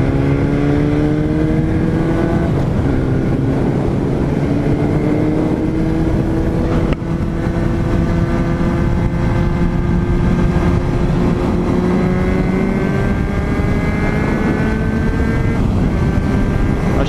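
A Suzuki Bandit 650cc motorcycle engine droning steadily while riding, its pitch rising gradually through the gears, loud and close with a brief shift around the middle and no talk.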